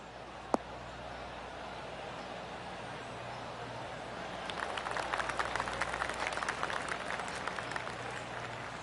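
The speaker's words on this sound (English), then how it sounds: "Oh, golf clap." Polite golf clap from a gallery of spectators on a golf course, a soft, scattered patter of applause rising after a single sharp click, moderately distant and lasting several seconds.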